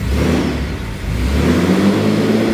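A turbocharged Nissan Xterra engine revs up from idle close by. Its mid-pitched engine note dips briefly, then climbs and holds at a higher, louder level with no talk.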